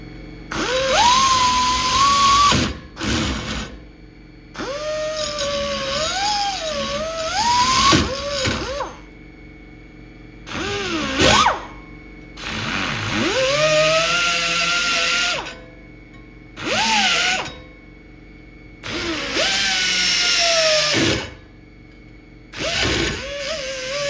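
A drill press whines in repeated bursts, rising and falling in pitch with short pauses between runs, loud and close.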